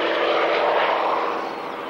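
A single-engine piston fighter aircraft flies past at a warbird airshow at Wroughton Airfield, its steady propeller drone loud and close, then fading slightly as it moves away.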